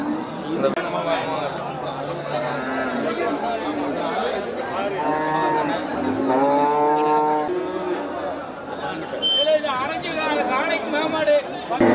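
Busy cattle market at Melapalayam where many people chatter and bargain over cattle, a dense crowd babble with occasional low animal calls buried in the voices throughout.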